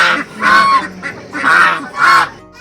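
Geese honk loudly nearby in three or four repeated, nasal calls, with short pauses between them, in Sikkim.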